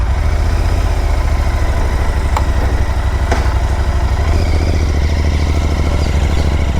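A Royal Enfield Interceptor 650 parallel-twin motorcycle is ridden, its loud, steady low engine thrum and exhaust drone continuous throughout, close to the rider with a couple of faint clanks.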